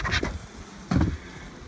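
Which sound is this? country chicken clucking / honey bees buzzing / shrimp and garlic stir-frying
honey bees buzzing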